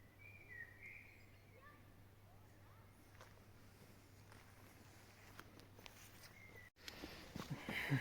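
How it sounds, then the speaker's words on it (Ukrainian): Faint birdsong drifts in from a distance in a forest at Vettakollen, Oslo, scattered chirps over a quiet outdoor background, with a soft shuffle of movement near the end. "І ліс красивий, пташки співають так класно."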